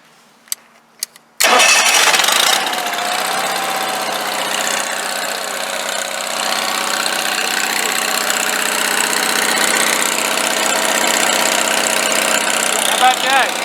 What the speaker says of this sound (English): So we should theoretically be able to run this generator from the switch out here.